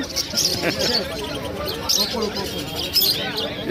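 A pair of albino cockatiels at a busy bird market give short, bright chirps and calls that rise over the murmur and talk of the surrounding crowd.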